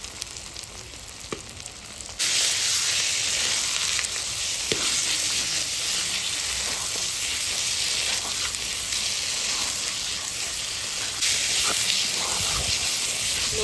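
Ground spice paste hits hot oil and fries with a loud, steady sizzle that jumps up suddenly and then holds, with faint stirring, in a home kitchen making a spicy Bengali pabda fish curry.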